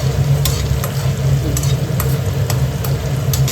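Ajwain carom seeds crackle in hot oil for dry arbi sabzi, a loud close sizzle with scattered sharp pops and light stirring over a steady low hum, no talking.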